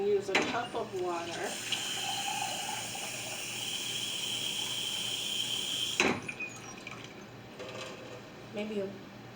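Water runs from a tap into a measuring cup in a steady rushing stream, with a few clinks and faint voices at the start and end.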